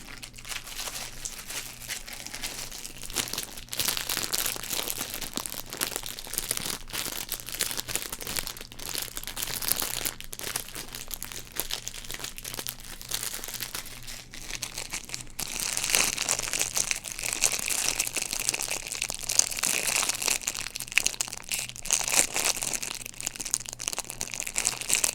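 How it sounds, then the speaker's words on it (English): Football card packs being crinkled and ripped open, a steady close-up run of crackling wrapper crinkles and tearing that grows denser and louder in the second half, with no talking. "even the crinkles are starting to put me asleep"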